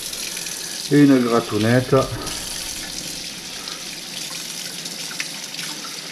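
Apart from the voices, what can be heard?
water running into kitchen sink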